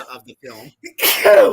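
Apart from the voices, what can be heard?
sneeze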